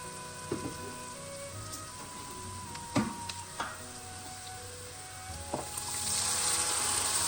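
Spices and vegetables fry together in a pot for an oxtail and sugar bean dish, giving a soft, steady sizzle with occasional utensil knocks and stirs, and the hiss swelling near the end.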